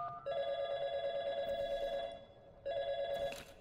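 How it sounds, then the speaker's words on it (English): Telephone ringing in Portal 2, two long electronic rings with a gap between them, clear and moderately quiet against a faint background. "Tell you what, let's give your parents a call right now."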